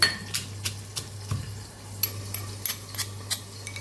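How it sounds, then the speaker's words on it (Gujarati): Garlic and green chillies are pounded coarsely in a mortar for a Gujarati tomato chutney, giving a series of sharp, close knocks at an irregular rhythm of roughly three per second over a low steady hum. "લસણ અને મરચાંને ખાંડી લેવાના છે એ ખાંડણીમાં જ ખાંડશું"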